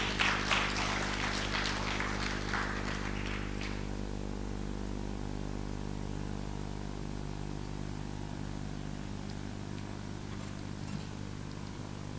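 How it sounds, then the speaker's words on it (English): Applause from a conference audience welcoming the speakers, a dense patter of clapping that fades out after a few seconds, leaving a steady low hum. "please give a round of applause for our speakers"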